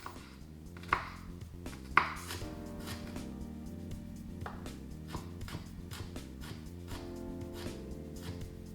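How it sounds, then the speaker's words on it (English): A knife chops garlic and ginger into small pieces for Sichuan mapo tofu, a steady run of crisp, close cuts on a board with a few sharper knocks. "Chop the garlic and ginger into small pieces."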